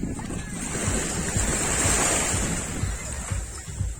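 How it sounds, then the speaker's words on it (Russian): Surf washing onto a Black Sea beach at Zatoka at night, a steady broad rush of waves with wind buffeting the microphone throughout. "Вот оно море черное."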